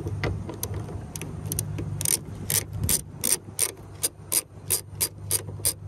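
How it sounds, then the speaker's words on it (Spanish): A hand ratchet loosening the single 10 mm bolt under the side skirt of a Mercedes CLA 250, a rapid run of sharp, close pawl clicks that turns into slower, distinct clicking strokes. "para comenzar removiendo el side-skirt solamente tiene un tornillo 10 milímetros aquí en la parte de abajo"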